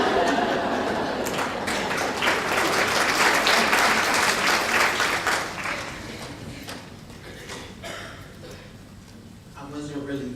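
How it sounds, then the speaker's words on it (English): Audience applause at a school event that starts strong, tapers off over several seconds into thinner scattered claps, then a voice begins speaking near the end. "I wasn't really feeling that applause."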